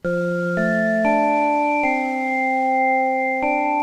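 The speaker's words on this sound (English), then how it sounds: "This is the sound on the Microkorg." A sustained tone from a Microkorg synthesizer with clean, steady pitches, shifting to new chord notes several times at an unhurried pace, with no talking.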